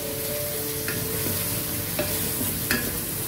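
Chicken cooking over a low flame, stirred in the pan: a soft, constant sizzle broken by a few sharp scrapes and clicks of the spoon, with faint music underneath.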